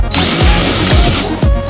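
A power drill drills out rivets in the aluminum ceiling panel of an Airstream trailer, a loud close steady whine with brief dips in pitch as the bit bites.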